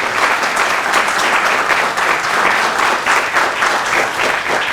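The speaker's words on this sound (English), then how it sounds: "So I just like to give them a quick round of applause." An audience gives a round of applause to a university's web designers at a flag retirement event, a dense, steady clapping that holds loud and even throughout.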